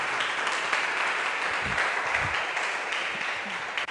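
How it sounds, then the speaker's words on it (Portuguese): A church congregation applauds during a worship service, a steady wash of many hands clapping at moderate loudness that holds evenly for several seconds, with a few low thumps mixed in. "Vamos dar um aplauso a Jesus."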